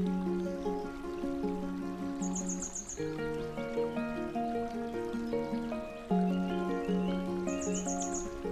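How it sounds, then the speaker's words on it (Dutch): Babbling water of a stream winding through a rare Dutch marsh forest in the Achterhoek runs as a soft continuous trickle under birdsong, with a short high trill repeating twice. "Overal hoor je het geluid van kabbelend water."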